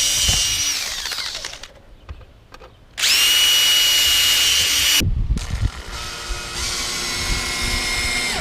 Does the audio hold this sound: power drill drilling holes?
yes